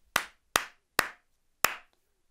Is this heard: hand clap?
yes